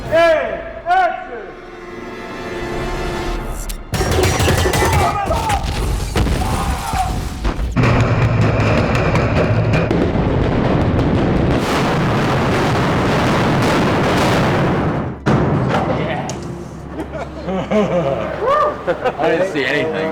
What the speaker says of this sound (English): shape charges that kind of start the demolition to happen. And then after that, we'll do the big giant fireballs.